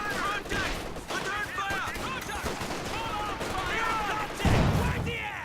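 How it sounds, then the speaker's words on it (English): Artillery barrage in a strategy video game, dense rolling crackles of gunfire and booms with whistling shells, a heavier blast near the end, continuous and loud under a commentator's talk. "Major calls in barrage on the machine gun there, which will prompt it to retreat."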